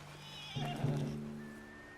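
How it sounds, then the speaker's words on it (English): A spooked horse in the Red Dead Redemption 2 video game lets out a loud, close whinny lasting about a second, with faint hoof clops and a sustained game tone behind it. "What's got this horse spooked, huh?"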